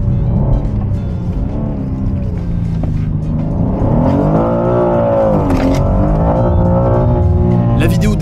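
A manual BMW M2 G87 drives on closed roads during the Tour Auto, its engine droning loudly and rising and falling in pitch through the gears, heard from inside the car.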